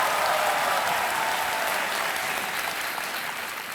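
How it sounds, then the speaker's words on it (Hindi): Steady applause from a studio audience on the KBC (Kaun Banega Crorepati) game show, a dense wash of clapping that holds evenly throughout and eases slightly toward the end, with no voices over it. "पिताजी आपके बहुत जोर से ताली बजा रहे हैं"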